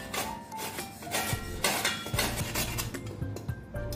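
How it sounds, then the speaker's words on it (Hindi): Raw mango, peeled, rubbed against a kitchen grater in a home kitchen, making repeated close scraping strokes with metallic clinks and rasps in an uneven rhythm, no voices. "तो इसे हम इस तरीके से ग्रेट कर लेते हैं।"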